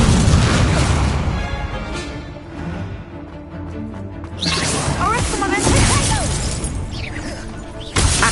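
Incendio fire spell cast in Hogwarts Legacy: a loud, continuous burst of whooshing flame and booming impact, easing slightly mid-way then surging again, dense and close, with a brief final crack.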